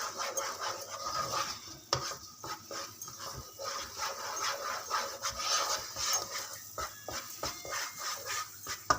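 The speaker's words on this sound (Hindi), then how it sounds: "आपने इसके अंदर स्पून चलाते जाना है" A spoon stirring a creamy milk sauce for chicken Alfredo pasta with capsicum in a pan, giving steady close scraping and clinking strokes with soft sizzling underneath throughout, no voices.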